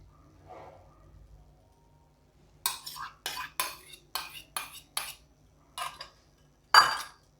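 A spoon stirring thick milk mixed with powdered milk in a pot for a sabu barfi sweet, a run of about eight distinct scraping, clinking strokes after a quiet start, the last one loudest.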